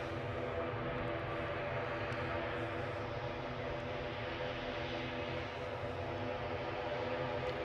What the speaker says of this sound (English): A 10-year-old ATR